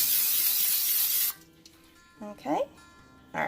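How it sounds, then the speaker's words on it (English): Oil spray hisses in one loud, steady burst of about a second over bread dough set in a pan, then stops; a person speaks briefly afterward. "and then we spray the top"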